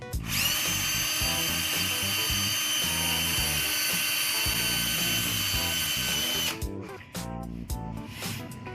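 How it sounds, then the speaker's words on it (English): A power drill whines loudly and steadily for several seconds, then cuts off, followed by a few short bursts and clunks. "You want to let the drill do most of the work"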